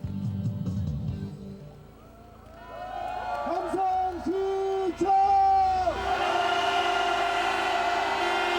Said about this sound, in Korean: 표결이 진행되는 1시간여 동안 밖에서는 사람들이 지치지도 않고 함성을 질렀습니다